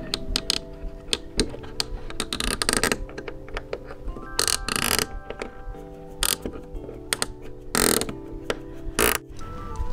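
Clicky ratcheting and mechanical ticking as a screw eye hook is turned by hand into a squash arbor trellis, repeated bursts of sharp clicks with brief pauses, close and fairly loud, no talking.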